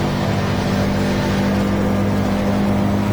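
A 2023 Hewescraft 240 Ocean Pro boat with a Yamaha F300 outboard accelerating on the water, a steady loud engine drone with strong low hum throughout, no talk.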